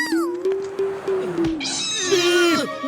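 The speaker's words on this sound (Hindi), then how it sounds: "ये बिल्ली तो मेरे पीछे ही पड़ गई है।" A cartoon cat meows and caterwauls in a Hindi animated series, a string of loud, close, wavering yowls that rise into a shrill, stretched cry near the end; no speech is heard.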